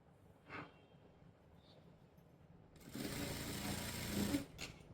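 A sewing machine stitches the neckline of a blouse, a dense steady whir that starts partway through and runs loud to the end after a few faint handling sounds.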